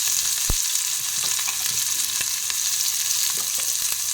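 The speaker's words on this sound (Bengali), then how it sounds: "পেঁয়াজটাকে আমি দিয়ে পেঁয়াজটাকে খুব লাল লাল করে একটু ভেজে নেব" Loud, constant sizzle of onions frying in a pan, with a sharp utensil knock early on and occasional scraping stirs; no voices.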